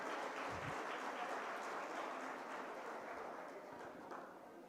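Sustained audience applause at a Hindi-language award ceremony honoring the education minister, a dense steady wash of many hands clapping throughout, slowly tapering near the end.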